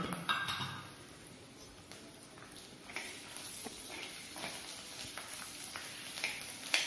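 Potatoes being fried in cow's ghee for sabudana kheer: a faint, soft sizzle with scattered clinks and scrapes of a utensil against the pan, quiet and close.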